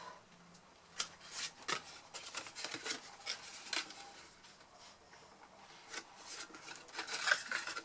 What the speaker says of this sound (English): So we fold this side up